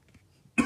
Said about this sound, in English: Oh, had to cough